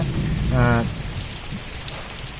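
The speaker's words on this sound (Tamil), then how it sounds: "பயங்கரமாக மழை இங்கே வந்துட்டு இருக்குங்க இப்போ கூட பே மழை பேஞ்சிட்டு இருக்கு" Heavy rain pours down around an old Chola-era stone temple, a loud, dense, steady hiss of drops on surfaces, with a brief voice-like tone near the start.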